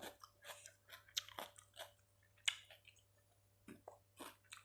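Soft, close crunching bites and chewing of a spicy Thai squid salad come in uneven bursts, fairly faint, with quiet pauses between mouthfuls.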